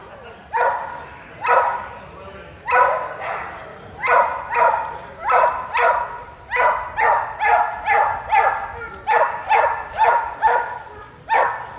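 An American Pit Bull Terrier barks repeatedly at a national breed show, a steady run of sharp, fairly close barks about every half second, with crowd noise underneath.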